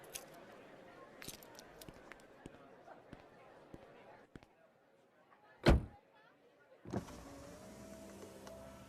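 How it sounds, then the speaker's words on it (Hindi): A car engine starts with a sudden burst and then settles into a steady idle, following a sharp door-like thump and scattered light clicks in an otherwise quiet scene. "तिलक, गाड़ी स्टार्ट हो गई है"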